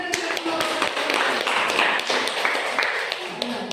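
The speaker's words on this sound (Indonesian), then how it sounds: "Tepuk tangan dulu." Teachers at a guru penggerak dissemination session applaud, brisk clapping with scattered sharp taps across the room, moderately loud and sustained, with faint voices mixed underneath.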